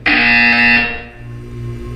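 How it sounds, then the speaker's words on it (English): Loud electronic buzzer in Portal 2 sounds once for under a second, a harsh tonal blare that cuts off and leaves a low hum behind. "You will hear a buzzer."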